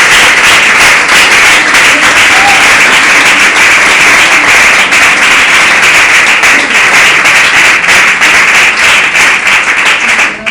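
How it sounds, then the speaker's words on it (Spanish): A church congregation claps in praise, a dense, steady wash of many hands applauding loudly and continuously, with a few voices faintly mixed in. "¿Por qué no le damos un aplauso a Dios?"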